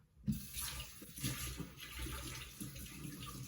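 Kitchen tap water running over a greasy measuring utensil being rinsed, a faint, steady splashing stream with small clinks, no talking.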